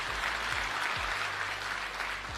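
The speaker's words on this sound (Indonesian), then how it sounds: "Tepuk tangan buat jemaat di tempat ini." A church congregation claps during a sermon, a steady moderate wash of applause under a low droning hum with occasional low tonal glides.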